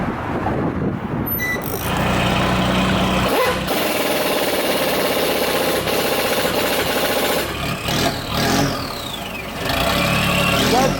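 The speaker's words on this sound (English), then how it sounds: "Is that diesel? Is that diesel?" A diesel engine runs steadily nearby, a continuous loud rumbling idle that dominates throughout, with a dog barking and brief voices over it.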